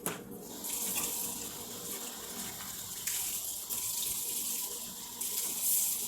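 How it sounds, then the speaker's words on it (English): A kitchen tap runs steadily while dishes are washed at a sink, a continuous close splash of water with slight surges, no voices. "the water that you're hearing running in the background is me washing my dishes while I go"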